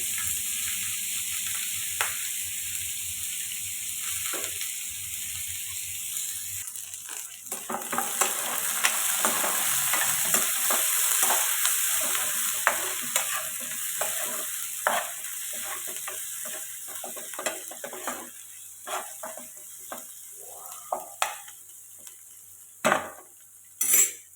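Onions and white cumin sizzle in hot oil in a pan for an aloo tadka, a steady frying hiss broken by repeated scraping, clinking stirs of a spoon against the pan, close and fairly quiet.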